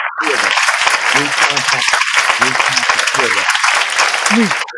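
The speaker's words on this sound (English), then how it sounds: "give some hand claps for these two brothers" Audience applause and hand claps for two brothers at a short-film event, a steady dense clatter filling the whole stretch while someone talks loudly over it.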